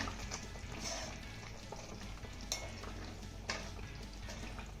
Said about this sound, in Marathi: एकदा ही भाजी छान अशी मिक्स करून घेऊया